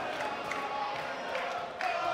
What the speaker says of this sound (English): just when I think this crowd couldn't get any louder